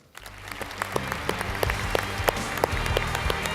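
Audience applause breaks out at a YMCA Hall of Fame induction ceremony, a steady wash of many hands clapping with a few louder individual claps standing out, filling the room for several seconds.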